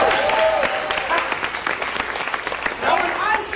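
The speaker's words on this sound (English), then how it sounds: "Give him a big round of applause." Applause breaks out in an audience for a baby boy during a showcase, a steady crackle of many claps with a voice speaking over it at the start and again near the end.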